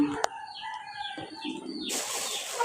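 Chicken clucking and crowing near a house at breakfast time, with short bird calls and chirps in the first half, then a broad noisy outdoor wash; faint voices and background noise throughout.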